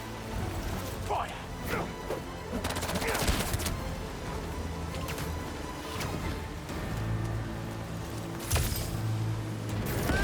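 Gunfire rattles through a busy battle in the Marvel's Spider-Man 2 video game, with bursts of shots mixed among clanks and other effects while characters shout over the din.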